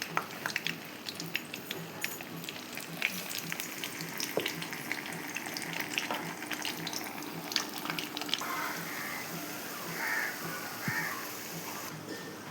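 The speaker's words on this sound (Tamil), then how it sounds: "நாம் ரெடி பண்ணி வச்சுருக்க சிப்ஸ் எடுத்து பொரிக்க வேண்டும்." Steady crackling and bubbling of banana chips deep frying in hot oil, with faint clinks and brief clatter of utensils.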